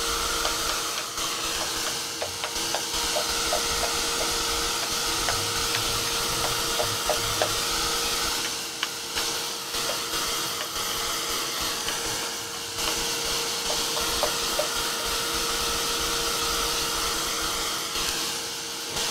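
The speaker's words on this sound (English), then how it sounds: "I'm going to hit this with a little heat to dry my splatters." A heat tool drying paint splatters on artwork blows a continuous loud whooshing hum for nearly twenty seconds, steady and close with faint clicks underneath.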